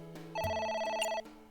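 A telephone rings in the video game AI: The Somnium Files 3, a short electronic ring burst that sounds clearly and alone, with no talk over it.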